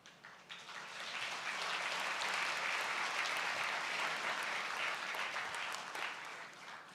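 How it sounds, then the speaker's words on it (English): Audience applause fills a hall at a national energy transition plan launch, a sustained dense clapping that swells quickly and holds steady for several seconds at close range before easing slightly. "They will only applause when you announce the billions, not otherwise."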